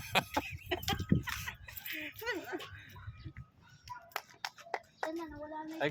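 A barako rooster clucks in a few loud, close bursts, with children's voices and other talk mixed in around the calls.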